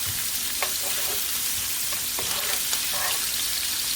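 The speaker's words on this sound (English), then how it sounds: "Y'all know we're going to pan fry it if it can be pan fried, honey" Asparagus pan frying on a stovetop skillet with a few chopped bacon slices, a steady close sizzle throughout with brief clicks and scrapes of stirring, no voices.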